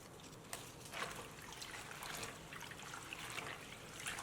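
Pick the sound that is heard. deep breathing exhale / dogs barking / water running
water running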